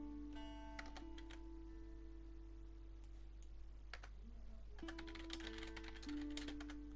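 Soft typing on a computer keyboard comes as scattered clusters of light clicks, faint and close, over a steady low hum.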